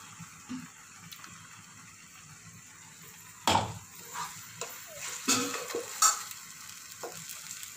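A spoon stirs freshly ground masala paste into sautéed dried turkey berries for vatha kuzhambu, producing a soft ongoing sizzle broken by several sharp scrapes and clatters against the pan.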